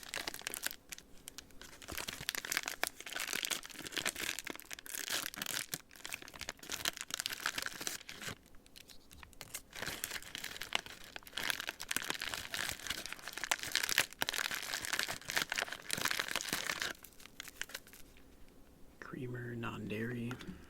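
Crinkly plastic packaging from a cold weather MRE beef stroganoff accessory packet is handled up close and steadily for about twenty seconds, with soft rustles and crunches, close-miked and quiet, and a brief whispered voice near the end.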